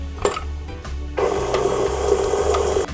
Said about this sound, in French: nous allons mettre déjà en premier le beurre tempéré dans la cuve du batteur